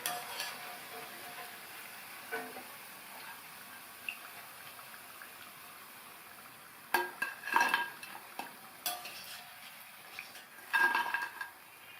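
Medu pakoda fry quietly in hot oil while a ladle clinks and scrapes against the pan, with sharper clusters of metal taps as the fritters are stirred and lifted out, close and otherwise calm.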